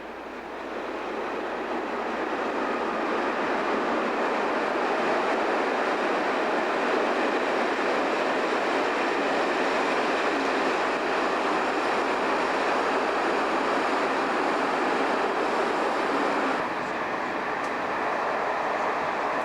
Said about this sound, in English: The Gatwick Express runs non-stop between Gatwick Airport and London Victoria Station.